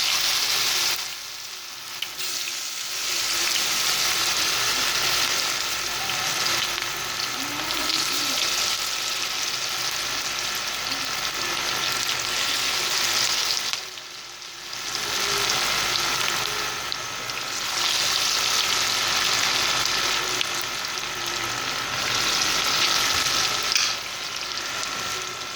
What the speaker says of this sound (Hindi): एक एक करके पकोड़े डालते जाएं।